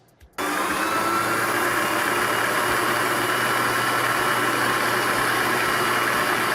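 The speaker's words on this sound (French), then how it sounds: "on va le faire tourner toujours tranquillement, vitesse 3, et on va rajouter le pralinois en même temps" A food mixer runs steadily at speed 3 while praline paste is blended into butter, a loud continuous whir that starts abruptly after a short quiet moment and holds evenly to the end.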